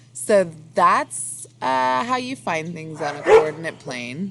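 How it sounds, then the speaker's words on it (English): Dogs bark in short bursts in the background while a person speaks close by over the barking. "Sorry about the dogs."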